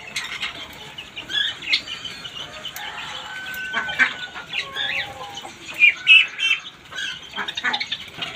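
Chickens cluck and squawk in short, uneven bursts near a poultry and quail coop, with a flutter of wings and other birds calling around them.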